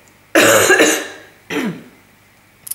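Two close, harsh coughs, the first a longer double burst and the second shorter, loud and near with no talking.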